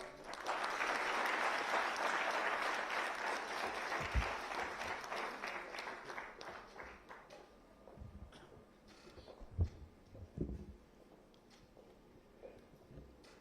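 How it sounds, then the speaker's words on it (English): A military audience at the BrahMos user meet with the Chief of Defence Staff and service chiefs applauds: loud, sustained clapping for about six seconds, then tapering off into scattered claps and faint room noise. "Can we have a huge round of applause for Sir?"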